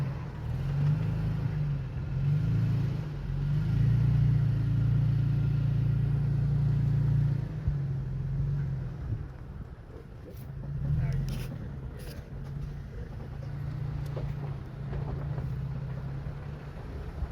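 A 2024 Toyota Tacoma TRD Pro 4x4 rumbles through a forest trail off-road, engine humming low and steady with shifting revs and occasional rattles and knocks, under ongoing conversation inside the cab.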